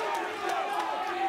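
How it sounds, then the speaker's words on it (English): A crowd at a prizefighter boxing event roars continuously at full intensity while a commentator talks over the noise. "a big push from McGann here, and the crowd at fever pitch"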